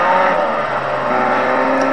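Roaring car engine in the video game Fortnite, a steady, loud, continuous drone sustained from start to end with no talk over it.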